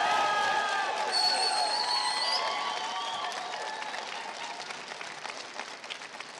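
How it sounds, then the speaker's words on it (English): A crowd applauds steadily after a Sinn Féin election speech in 2019, dense clapping mixed with some cheering and a few whistles at the start, gradually thinning and fading toward the end. "So, significant applause there for John Finucane making his speech."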